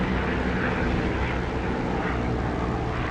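Continuous loud drone of an aircraft engine in a DCS or War Thunder flight simulator, a steady broadband roar with no break.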